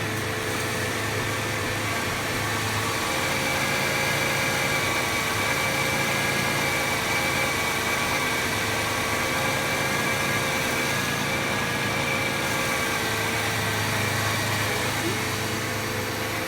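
A 1993 Chevy Lumina APV minivan engine idles steadily after a transmission fluid and filter change, a constant low hum with a faint mechanical drone running throughout.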